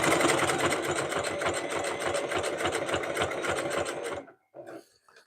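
A sewing machine stitches a fabric rag rug, its needle hammering in a fast, even, loud rhythm for about four seconds before stopping abruptly, followed by a couple of faint, brief mechanical clicks.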